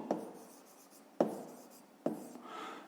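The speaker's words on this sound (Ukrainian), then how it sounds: "Записуємо тоді четверте завдання і пишемо, що нехай" A pen writes down a math task on paper, three soft scratching strokes, each starting with a light tap, close and faint in a quiet room.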